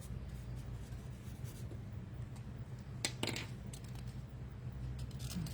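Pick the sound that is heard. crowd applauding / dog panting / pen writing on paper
pen writing on paper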